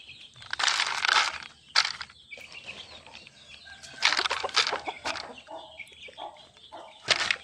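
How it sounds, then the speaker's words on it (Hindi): Aseel chickens and small chicks peck at softened grain, giving bursts of close scratchy pecking and rustling with wing flaps and soft clucks, in uneven clusters separated by short quiet gaps. "सबसे पहले मैं अपने छोटे चूज़ों को दाना दे रहा होता हूँ"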